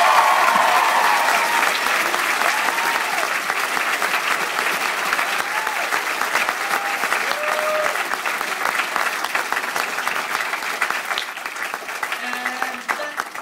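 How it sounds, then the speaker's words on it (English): A theater audience and cast applaud at the close of a show, sustained dense clapping filling the room for over ten seconds while a voice occasionally speaks faintly underneath. "So round of applause for you."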